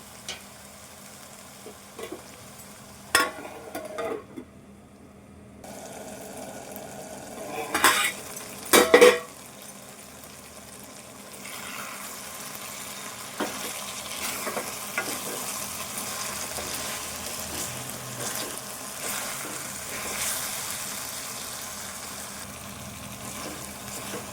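Ridge gourd and meal maker curry frying in a pan, with a steady low sizzle throughout, broken by several sharp scrapes and clinks of a utensil stirring against the pan and no talking.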